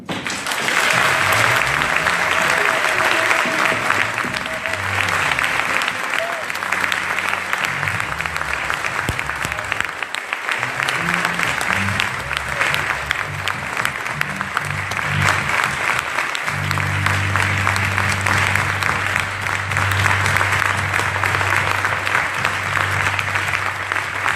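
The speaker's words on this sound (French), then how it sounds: "Je veux que tu prennes 1 minute pour acclamer l'Esprit de Dieu." A church congregation applauds to acclaim the Spirit of God, with loud, sustained clapping and crowd noise filling the room. A low voice or music runs beneath it throughout.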